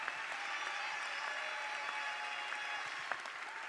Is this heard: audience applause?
yes